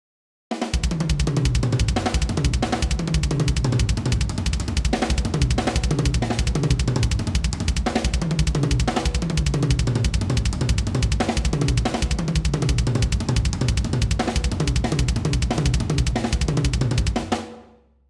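A drum kit fill is played over and over without pause, a loud, dense stream of rapid drum and cymbal hits repeating in a steady cycle for nearly the whole stretch before stopping abruptly.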